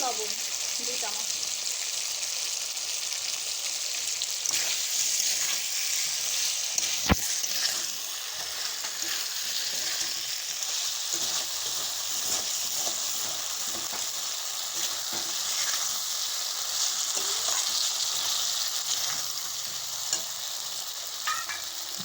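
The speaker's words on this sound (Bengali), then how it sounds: "এইভাবে নাড়াচাড়া করে মশলাটা কষে নেব।" Spice masala being stir-fried for a paneer and jackfruit curry, with a steady sizzle and frying hiss throughout and the scrape of stirring in the pan, close and continuous.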